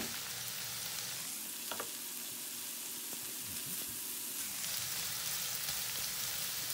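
Shrimp sizzle steadily in butter and garlic over high heat, a dense continuous frying hiss with occasional crackles and a few light clinks partway through.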